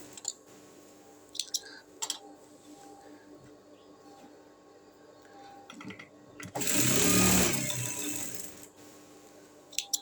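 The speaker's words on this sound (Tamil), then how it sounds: "மிஷினுக்கு கொடுத்து ஸ்டிச் பண்ணிக்கோங்க" A sewing machine stitches a saree blouse in one fast whirring run of about a second and a half, loud and close, after a stretch of quiet room noise with a few light clicks.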